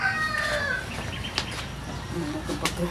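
Chickens cluck and squawk nearby, with a brief flutter of wings amid general barnyard noise.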